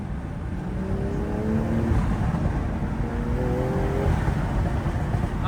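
A BMW M340i fitted with a CTS intake revs up and lets off, its turbo fluttering briefly on release; the engine note stays loud and close throughout, with rising harmonic sweeps on each rev.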